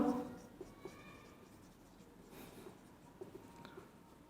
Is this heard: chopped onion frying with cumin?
no